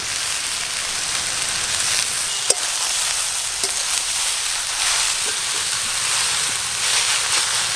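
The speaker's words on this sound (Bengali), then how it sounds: "আর একটু হালকা করে ভেজে তারপর ঢেলে নেব।" Mixed vegetables, including cabbage, frying in a pan for khichuri: a continuous loud sizzle with a few sharp clinks of a spatula against the pan.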